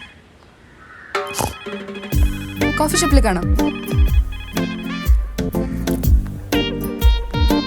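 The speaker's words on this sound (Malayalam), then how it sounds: "ഫോൺ അടിക്കുന്നേ." A phone ringtone plays in a coffee shop scene from the Malayalam film Mandharam, with a repeating melodic pattern sounding loud and close while people talk over it.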